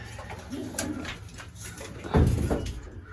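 Pigeons cooing softly in a low, throaty burble, a few calls close by over faint background noise.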